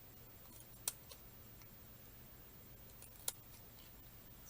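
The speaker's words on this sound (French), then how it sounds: "Je pense le fait de couper des bandes de papier" Scissors cut strips of paper, two quiet, crisp snips a few seconds apart with faint rustling in between, in an otherwise still room.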